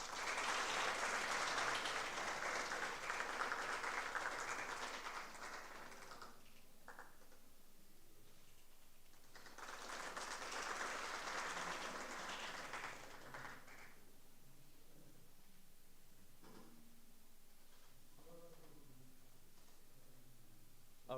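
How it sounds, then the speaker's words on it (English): Audience applause during a felicitation at the QuCAM 2024 conference at NIT Rourkela: a long burst of many clapping hands, a short lull, a second shorter burst, then a quiet room with faint scattered sounds. "Round of applause, please."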